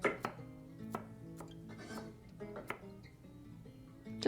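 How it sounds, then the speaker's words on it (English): A knife finely chopping fresh rhubarb stalks on a cutting board, a string of crisp, irregular thunks close by and fairly quiet, with no one speaking. "And then just chop it up very finely."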